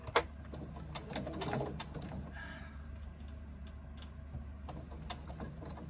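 A domestic sewing machine stitches fabric that it struggles with, quiet rapid mechanical ticking and whirring in a brief burst, then softer intermittent clicks in a calm room.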